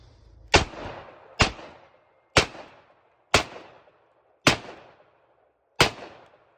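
Six loud .44 Magnum revolver shots fired with Winchester 240-grain ammunition, each a sharp blast with a short decaying tail, spaced about one second apart with quiet gaps between.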